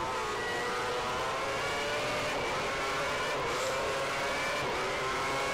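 Race car engine in the F1 2010 racing game, a Cosworth-powered car spinning out, loud and continuous with a high, wavering whine and tyre noise throughout.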